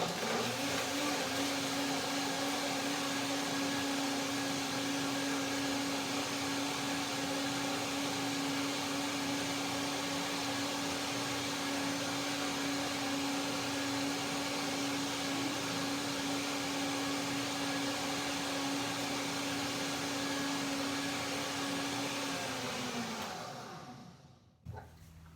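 A blender purees cashew pea soup with a steady, loud motor whine that holds for over twenty seconds before winding down and stopping near the end.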